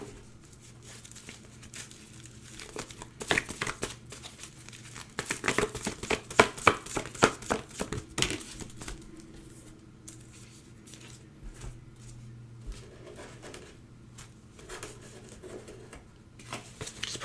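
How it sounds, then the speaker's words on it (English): Oracle cards being pulled and shuffled, a run of quick papery slaps and riffles that bunch up in the middle, then softer handling rustles with no talk. "Pulling some oracle cards for you here."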